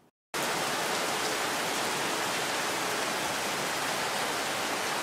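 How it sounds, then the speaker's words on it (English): Steady rain falls on a garden, a dense, even hiss that starts abruptly after a brief silent moment and holds at a constant loud level throughout, with no voices. "we've got a bit of rain."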